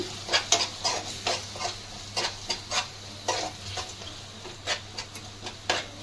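Coriander powder is stirred into a fish sambar masala in a pan, with a spoon scraping and tapping in a steady rhythm of soft clicks over a low, continuous sizzle.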